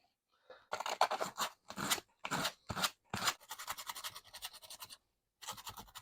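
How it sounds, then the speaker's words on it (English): A small saw rasps back and forth on a cork trekking pole handle, close and loud, in short repeated strokes with brief pauses. "this kind of saw in motion is kind of working"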